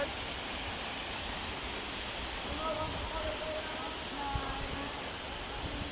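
Steady broadband rush of a waterfall at a falls in Roxas, Palawan, continuous and enveloping, with faint voices and a few brief tonal sounds in the background.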